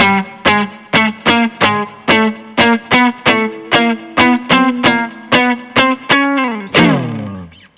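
Heavily distorted electric guitar plays a fast run of short, choppy picked notes, cleanly muted between strikes, ending on a longer ringing bend.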